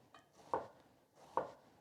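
A large, thick kitchen knife slices through an onion on a cutting board, producing two crisp, close cuts about a second apart against a quiet background, with no speech.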